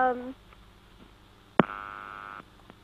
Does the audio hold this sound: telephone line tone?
yes